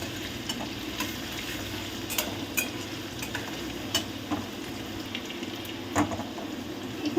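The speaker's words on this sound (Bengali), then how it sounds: "তারপর আমি দেব কুচিয়ে রাখা রসুন, তারপর এগুলোকে একটু ভাজতে দেব" Chopped garlic fries in a hot pan for chilli paneer, giving a steady close sizzle throughout with a few soft stirring clicks and scrapes and no talking.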